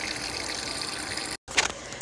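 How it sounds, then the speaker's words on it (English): A Krib Bling portable washing machine fills from an open faucet, a steady close gushing and hissing of water that cuts out for a brief instant before resuming with a few splashy surges. "So now it's filling back up with water."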